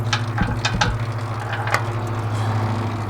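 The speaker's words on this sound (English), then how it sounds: "A 10mm socket takes out the plug." A 10mm socket wrench works the oil drain plug loose on a John Deere Z970R zero-turn mower, giving a few short metallic ratchet clicks over a steady low hum.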